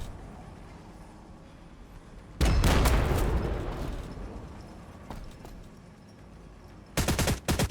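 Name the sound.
gunfire sound effects in Warhammer 40,000 battle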